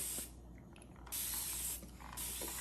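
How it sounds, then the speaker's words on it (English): A spray bottle mists water over a rice flour stencil in two short, close hissing bursts separated by a brief pause. "I'm going to take the spray bottle and I'm going to spray it down"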